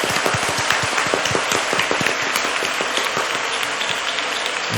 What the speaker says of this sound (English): one more round of applause for Mariah Carey